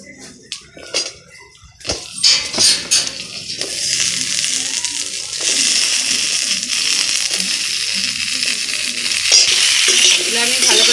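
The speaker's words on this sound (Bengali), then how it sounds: "এই তেলেতেই আমি পেঁপেগুলো আর আলুগুলো ভালো করে নেড়ে" Papaya and potato pieces being stirred in hot oil, beginning with clattering spatula scrapes and then swelling into a loud, dense, continuous sizzle.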